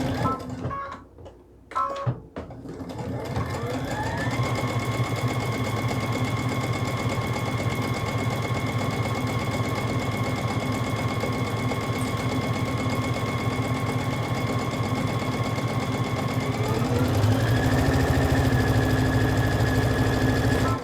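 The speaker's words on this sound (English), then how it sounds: "you just line up these edges on the ends and sew down that side" Sewing machine stitching the side seam of a Halloween treat bag: a few brief handling knocks, then a continuous, even mechanical whir that runs steadily for most of the time and grows slightly louder near the end.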